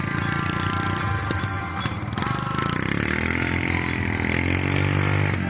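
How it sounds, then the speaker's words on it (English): A lawn mower engine running near a car show at Menangle, a loud steady buzzing drone close by whose pitch shifts and settles lower about halfway through. "That's a lawnmower."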